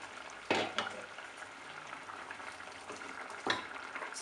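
Fish curry cooks in a covered pan, giving a soft, steady sizzling bubble throughout, with two sharp clatters standing out above it.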